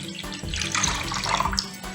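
Water is poured into tamarind to dissolve it for neem flower rasam, a soft steady splashing and trickling into a vessel, close and fairly quiet with no talking.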